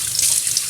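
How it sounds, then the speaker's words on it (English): Warm water pours steadily from a tap for a brief moment, a bright, hissing rush close to the microphone, heard alone, while a goat-milk feeding bottle mix is being prepared. "putting warm water"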